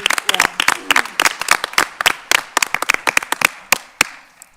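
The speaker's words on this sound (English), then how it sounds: "We ask that you please give them another round of applause" A small audience at a school board meeting claps steadily, individual hand claps distinct and fairly close, fading out after a few seconds.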